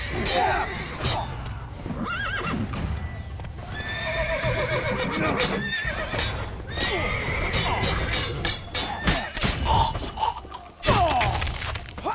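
Horses whinny and neigh repeatedly in The Witcher 3: Wild Hunt – Blood and Wine, with clip-clop hooves and scattered thuds mixed through a busy, loud scene.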